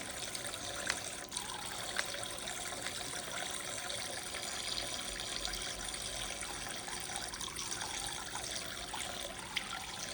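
Tap water runs into a kitchen sink while a cup is washed by hand, a soft steady trickle and splash with faint clinks, fairly quiet and continuous throughout.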